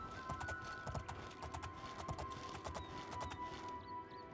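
A horse's hooves clip-clop steadily in the video game Elder Scrolls IV: Oblivion, an even rhythmic stream of soft thuds at a moderate pace, quiet and continuous, with no talk.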